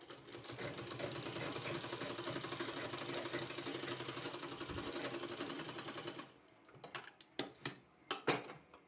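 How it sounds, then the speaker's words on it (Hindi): A sewing machine stitches palazzo pants in a fast, continuous mechanical whir for about six seconds, then stops, leaving a few sharp clicks and knocks of handling the fabric. "इस तरह से सिलाई लगा देना।"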